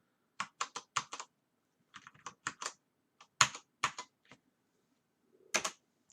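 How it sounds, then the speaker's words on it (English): Computer keyboard keys, including caps lock, are tapped in quick clusters of sharp clicks with short pauses between bursts, close and clear in an otherwise quiet room. "Well, I'm pressing caps lock and that's obviously not doing anything"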